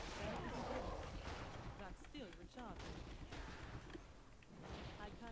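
Cannon fire in World of Warcraft's Worgen starting area, a few booming shots among battle noise and effects, loud and close.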